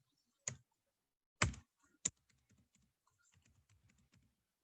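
Computer keyboard typing while a database field is entered: a few sharp isolated key clicks, then a run of quieter rapid taps, close and clean.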